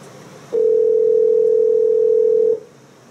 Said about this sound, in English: Let me call this 510 number back.